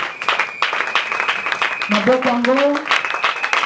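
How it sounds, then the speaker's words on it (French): A church congregation applauding and cheering for God during a Sunday worship service: dense rapid clapping throughout, mixed with voices, shouts and a rising sung or ululating cry in the middle. "On acclame très fort pour notre Dieu."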